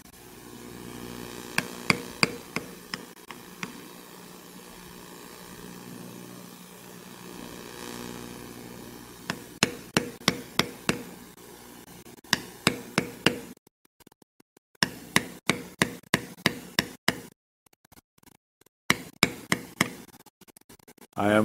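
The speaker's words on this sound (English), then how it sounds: "I'm again beveling very lightly. And we're beveling the other side of all these stems." Sharp taps of a leather beveling tool struck with a mallet while stamping an oak-leaf design and lightly beveling the stems, arriving in quick bursts of evenly spaced knocks separated by brief pauses, close and crisp over a faint background hum.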